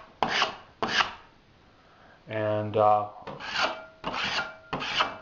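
A scraper dragged over dried drywall mud to knock off ridges makes several short, rough rasping strokes, close and crisp. Someone speaks briefly in the middle.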